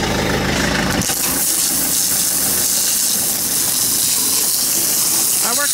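A pressure washer sprays water, a loud continuous hissing gush over a running engine drone, close and steady throughout, with no speech.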